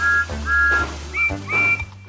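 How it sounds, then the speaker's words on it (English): Two cartoon steam engines give short, high peeping whistles, four toots in uneven pairs over a low hum, loud and close with no talking. "Thomas and Percy both peeped their whistles"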